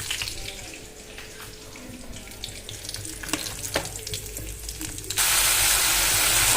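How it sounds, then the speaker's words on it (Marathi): Kitchen tap water runs while bitter gourd is rinsed. Soft trickling and splashing give way near the end to a sudden, loud, steady gush as the flow opens up. "ही एकदा स्वच्छ पाण्यानं धुवून घ्यायचं आहे"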